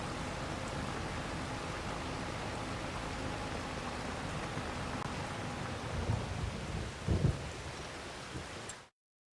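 Steady rain pours in Farming Simulator 25 on a North Frisian farm map, and low thunder rumbles twice near the end before the sound cuts off.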